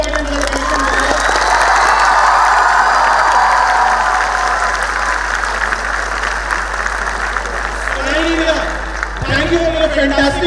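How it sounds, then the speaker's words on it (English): An audience at a student conclave bursts into loud, sustained applause mixed with cheering and shouts. Voices rise over the clapping toward the end. "A round of applause for no one else but for yourself, please."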